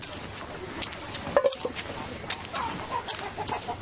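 A prized fighting rooster clucks nearby in short, soft bursts against a low background, with faint voices around it.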